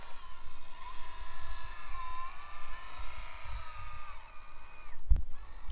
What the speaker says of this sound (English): I do have something rubbing in my transmission there.